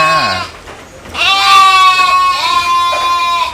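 Fat-tailed sheep bleat on a farm, a short call followed by a long, loud, wavering bleat close by, with no talking.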